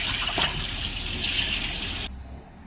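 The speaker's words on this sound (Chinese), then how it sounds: "现在咱来用清水把它冲净泡它2个小时吧" Tap water runs steadily over pork ribs as they are rinsed, a close, bright gushing splash that cuts off abruptly near the end, leaving a faint low residue.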